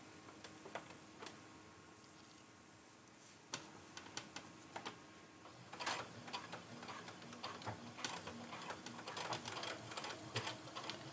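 A sewing machine backstitching a seam on a fabric zipper pouch gives faint, close mechanical ticking. Scattered clicks at first turn into a denser, uneven run of rapid taps.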